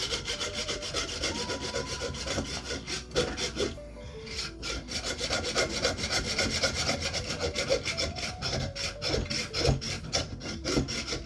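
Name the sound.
sawing through cow bone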